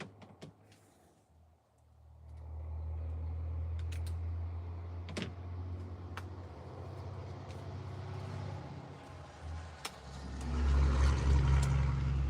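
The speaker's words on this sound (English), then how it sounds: "The trucks." Trucks pass by outside with a low, heavy rumble that swells from about two seconds on and grows loudest near the end, over a faint background and with no talking.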